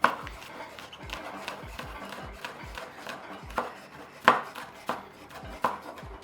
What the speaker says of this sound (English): Just roughly chopping these.